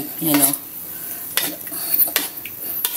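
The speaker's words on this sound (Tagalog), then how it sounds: "para paiikutin naman natin dito sa ating pinainit na kawali" Corned beef stirred with a metal spoon in a heated pan with little oil, giving scattered scraping clinks and light clatter against the pan at close range, no speech.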